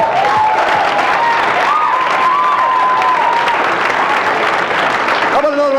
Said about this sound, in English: a nice round of applause for Mr. Fran Solamita